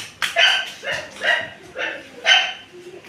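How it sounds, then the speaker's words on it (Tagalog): A dog barks five times in quick succession, fairly close and loud, with brief pauses between each bark. "Nag-iingay na ang aso."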